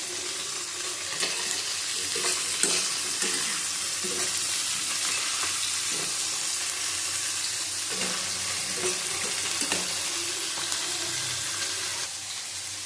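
Bitter gourd with onion, pointed gourd, potato and eggplant sizzles steadily in a pan, with a spatula scraping and stirring in irregular strokes throughout.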